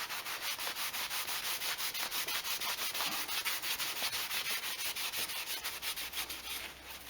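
Stained Les Paul guitar body being buffed and sanded by hand, a close, rapid back-and-forth rubbing rhythm that continues steadily throughout.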